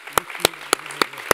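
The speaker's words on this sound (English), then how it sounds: "So a big applause, please." Sharp, evenly spaced claps ring out close by in thanks to event organizers, a handful of single strikes at a steady beat over a quiet, faintly humming room.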